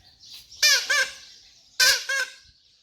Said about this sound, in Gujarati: ઓનો મીઠો અવાજ છે પોપટીનો